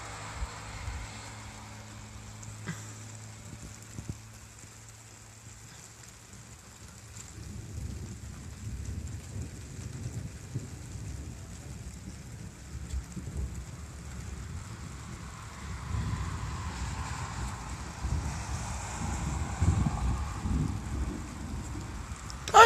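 Rumbling thunder from a localized summer thunderstorm rolls in low and broad, swelling louder toward the end amid steady rain-like hiss, with no voices.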